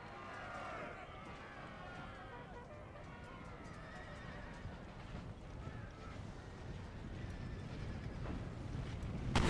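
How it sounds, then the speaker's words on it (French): Prussian cavalry charging Austrian horsemen at the Battle of Rossbach in Empire: Total War, with horses neighing and whinnying over steady drumming hooves and a rushing, wind-like roar that swells louder toward the end. "Sur cette même aile, la cavalerie prussienne charge ses homologues autrichiens."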